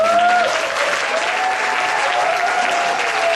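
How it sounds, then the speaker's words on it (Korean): A church congregation applauds to welcome their pastor, a loud, dense, sustained wash of clapping from many hands with a faint voice tone at the start. "박수로 이 자리로 환영하도록 하겠습니다"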